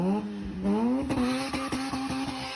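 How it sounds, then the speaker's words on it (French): A Mazda RX-7 sports car engine revs up in a rising whine, then shifts into a choppy, pulsing drone, close and loud. "La Mazda"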